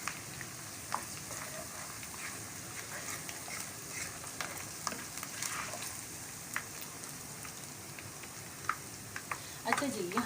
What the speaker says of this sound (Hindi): ये देखिए लहसुन थोड़े से इस तरह भून लेंगे हम, लहसुन अदरक का पेस्ट